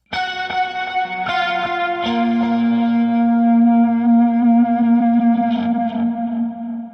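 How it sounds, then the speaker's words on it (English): Electric guitar through Line 6 Helix effects plays the recurring verse lick from a song: a few picked notes, then a long sustained note ringing out with echo and reverb, alone. "There's a common lick that happens throughout all the verses that sounds like this"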